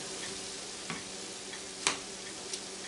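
Filling with onions is stirred in an 11-inch Copper Chef square pan, a steady soft sizzle with a few light scraping clicks of the utensil against the pan, close and without talk.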